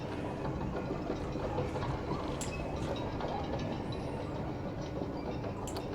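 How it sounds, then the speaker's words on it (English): Steady rumble of a train rolling along rails in the video game Control, a continuous low mechanical drone with faint metallic clinks, heard alone. "What I need to do here is move the train to the right so it uncovers that panel."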